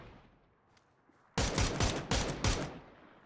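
Automatic gunfire from an enemy player in the PUBG video game rings out in several loud, rapid bursts after a quiet stretch, sharp and close.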